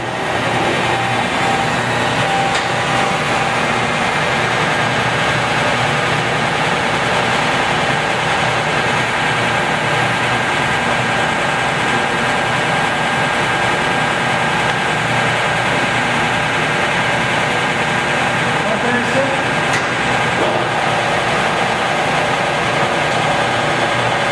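A Cincinnati #3HD horizontal mill running at 79 RPM gives off a steady, loud mechanical drone with a constant whine, unbroken throughout.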